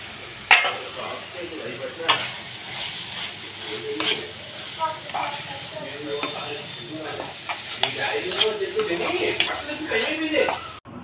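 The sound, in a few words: rice added and stirred into curry leaf mixture in pan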